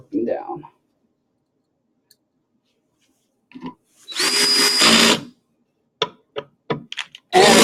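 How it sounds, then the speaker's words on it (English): A power drill whirs in a loud, close burst lasting about a second while screws are torqued down, followed by several quick clicks and a short final spin. A voice speaks briefly at the start and again midway. "Lightly put in all the screws, and then go back and torque them down."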